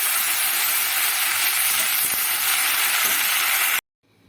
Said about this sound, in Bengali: কাঁঠাল দানাগুলো একদম ভাজা হয়ে গেছে, এই অবস্থায় পাট শাকগুলো দিয়ে দেবো